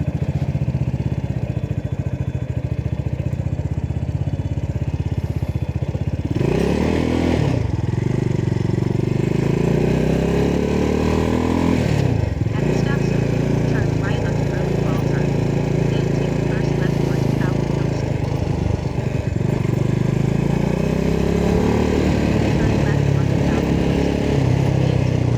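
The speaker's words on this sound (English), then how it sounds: "Beautiful day for a motorcycle ride here in Texas." A motorcycle engine drones steadily throughout a ride in Texas, low and continuous, with a couple of brief surges in pitch as it shifts or passes something.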